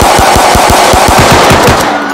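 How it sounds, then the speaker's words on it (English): Rapid automatic gunfire in a Roblox police roleplay game rattles off about a dozen evenly spaced shots, loud and close, in one continuous burst. "Shots fired."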